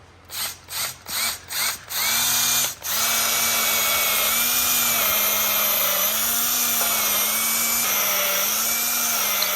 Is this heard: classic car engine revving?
no